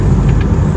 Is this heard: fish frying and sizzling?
no